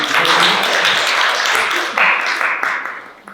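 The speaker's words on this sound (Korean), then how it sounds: "큰 박수로 맞아주시기 바랍니다" An audience applauds to welcome a speaker at a public-interest forum, a dense wash of clapping that holds steady and then tapers off toward the end.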